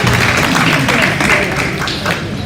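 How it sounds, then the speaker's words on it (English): A crowd at a cattle show claps for two young women showing exotic division heifers, producing a loud, steady, dense patter of applause throughout. "Let's give those two young ladies a really nice round of applause."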